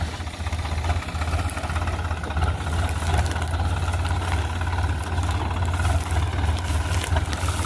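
Swaraj tractor engine, five or six seasons old and driving a straw-chopping machine through pulleys, runs steadily with a deep continuous diesel drone and knock, loud and close throughout with no talking.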